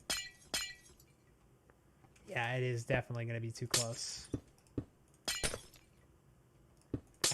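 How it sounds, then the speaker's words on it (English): Glass shattering in the Minecraft multiplayer survival server during redstone building, several short sharp crashes and clinks scattered across the stretch, with someone talking over and between them. "I hate the sound of glass breaking in this game."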